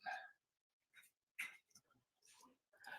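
A dog indoors eager to go outside gives short yelps and whimpers in separate bursts with brief silences between, faint and close.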